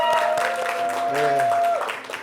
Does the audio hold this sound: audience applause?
yes